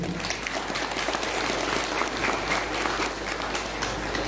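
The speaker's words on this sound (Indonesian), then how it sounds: "Berarti tepuk tangan." A crowd at a village anniversary celebration in Cirangkong applauds continuously, dense even clapping over a low steady hum, with no one speaking over it.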